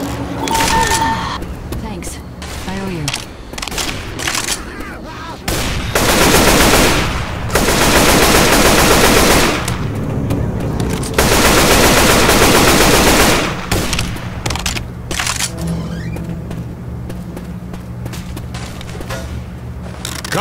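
Video game gunfire in Left 4 Dead 2, with long loud bursts of rapid automatic shooting separated by quieter stretches of scattered shots and in-game sounds.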